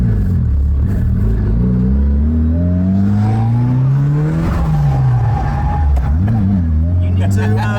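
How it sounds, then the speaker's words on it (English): A supercar drifts, its engine revving and falling in repeated sweeping pitch changes with tyre noise, loud and close, while people talk over it. "If only the handbrake works, we've had a nice little drift there."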